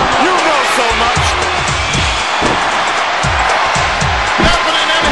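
A wrestling arena crowd in a Nintendo 64 wrestling video game roars in a continuous loud cheer, with rhythmic heavy thuds beating underneath, while someone talks over it.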